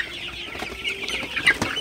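Several Sonali hybrid chickens cluck and murmur close by in a busy, overlapping flock at night, with a sharper squawk near the end.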